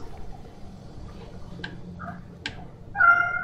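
A pet cat gives a short meow at the end after a quiet stretch broken by a couple of faint clicks and a brief chirp, close and moderately loud.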